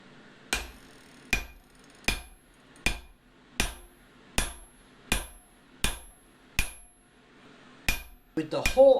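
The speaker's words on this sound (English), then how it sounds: "I guess I'll have to finish punching this with my cross peen." A cross peen hammer strikes a punch through hot forged steel from a demolition chisel on an anvil, about ten evenly spaced, sharp ringing blows at a slow steady pace, close and clear, ending in a quicker flurry of lighter taps.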